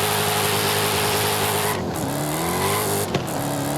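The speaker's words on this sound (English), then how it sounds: "Yeah, it just wheel spins." A Dodge Challenger Demon launching with wheel spin in the video game Forza Horizon 5: a loud, sustained engine roar with steady tire spin, and the pitch dipping and climbing through two gear changes.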